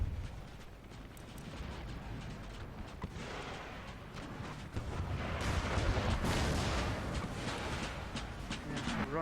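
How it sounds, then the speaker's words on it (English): Artillery barrage in an Empire Total War battle with Austria's army, a dense continuous rumble of cannon fire and booms that swells louder in the second half, with distant crackling musket fire mixed in. "I would quite like to leave it to my artillery to tear them apart"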